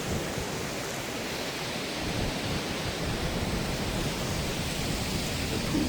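A waterfall roars along the Api Base Camp trek in Nepal, a steady, dense rush of broadband noise that holds unbroken and fairly loud throughout, with no voices.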